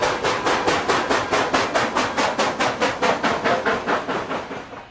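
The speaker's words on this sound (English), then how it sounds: "You'll see and hear those 4 exhaust beats for each time the big drivers go around." An O-gauge model steam locomotive chuffs steadily, four exhaust beats per driver-wheel revolution, a fast, even series of hissy puffs heard close and clear with no talking.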